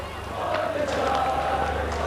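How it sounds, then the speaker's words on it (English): A large crowd in Tiananmen Square, facing troops after hours of shooting, shouts in a sustained, massed roar of voices that hangs at a steady level through the whole stretch. "the crowd is still here. They're shouting, "Stop the killing and down with the government.""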